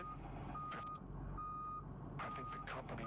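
A bus backing up in the Desert Bus VR game sends out a run of steady electronic reversing beeps, evenly spaced and fairly quiet, with faint clatter and breathy sounds between them.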